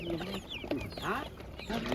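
Young naked-neck chickens clucking and peeping at a market, several birds close by in short overlapping calls, with some talk nearby.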